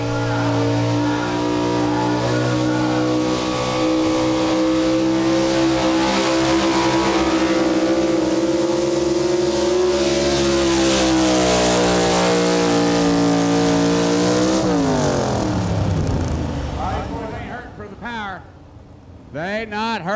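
A competition truck engine roars loud and close during its timed run at a motorsport event, a sustained high-revving note that climbs, holds, then drops sharply as the truck slows, with a crowd and announcer faintly beneath.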